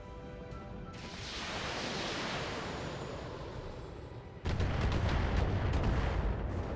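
Battletech mechs firing all their weapons at once: a low rumbling barrage builds, then a louder wall of blasts and impacts rolls on steadily to the end.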